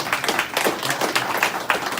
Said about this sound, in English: I want to give him a round of applause.